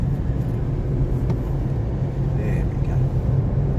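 Dacia Duster 4x4 with a 1.2 litre three-cylinder petrol engine and manual gearbox on the move, a steady low engine drone with road rumble heard from inside the cabin, continuous and fairly loud.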